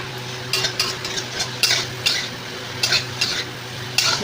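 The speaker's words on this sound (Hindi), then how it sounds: "बस तेज़ आंच पे इसको अच्छे से भून दे रहे हैं।" A spoon scrapes and stirs potato and pointed gourd frying with spices in an oiled pan over high heat, with rhythmic metallic strokes about twice a second over a steady close sizzle.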